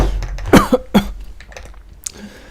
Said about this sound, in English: Cough. Sorry.